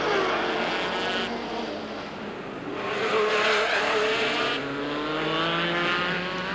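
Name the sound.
Jaguar V12 race car engine accelerating out of hairpin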